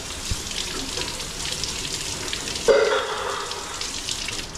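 Water runs steadily from a tap as something is washed under it in a kitchen. The hiss stays faint and even, with a brief splash partway through and no talking.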